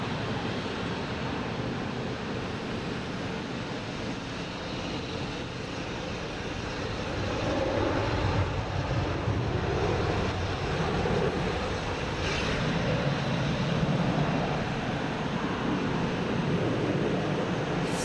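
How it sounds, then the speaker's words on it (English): A Boeing 787 Dreamliner roars past near a runway, a broad steady engine rumble that swells louder about halfway through and holds, with no voices. "the plane just gets the roar when it goes by me here."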